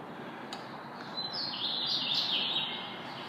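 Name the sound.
birds chirping around a parking structure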